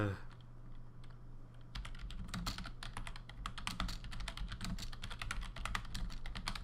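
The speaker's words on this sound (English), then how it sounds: "yeah, you like that typing sound?" Rapid, steady typing on a computer keyboard, many close crisp key clicks in a continuous run over a low background hum.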